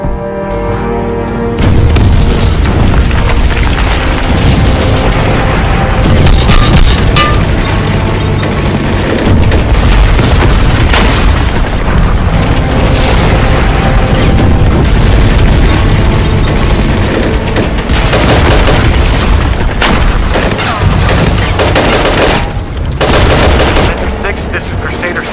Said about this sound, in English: That sounds like tank fire.